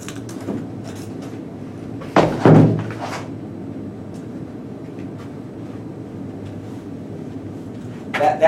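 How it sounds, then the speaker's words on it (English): Books tossed into a garbage bin give a single dull thump around the two-second mark, followed by a lighter rattle, in a quiet room. "That thump that you heard was me throwing those books in the garbage"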